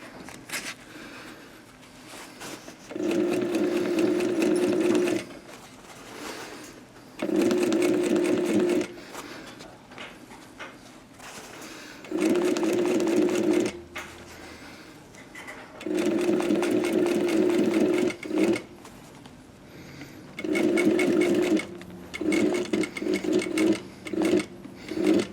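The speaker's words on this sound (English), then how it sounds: "I'm going to work really hard at keeping these two together while sewing down" A sewing machine runs in repeated bursts of a few seconds each, stitching down a skydiving BOC pocket, with brief pauses between runs. It is close and steady, and no one speaks.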